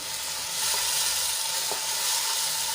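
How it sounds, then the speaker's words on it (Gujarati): Onions and tomatoes sautéing in hot oil for Punjabi-style rajma, giving a steady, close, loud sizzle with light stirring scrapes and no voices. "તો આપણા ડુંગળી અને ટમેટા સરસ રીતે સંતળાઈ ગયા છે"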